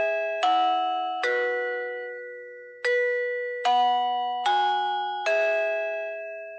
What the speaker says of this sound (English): press the doorbell to hear the selected melody